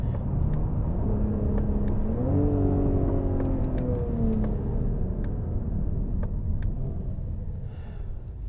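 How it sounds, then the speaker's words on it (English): A 2021 Mercedes-AMG GLE 53 SUV engine and exhaust rise in pitch around two seconds in, then settle into a steady drone under constant road rumble for the rest of the drive. "So let's see if we can give you an earful of the exhaust here"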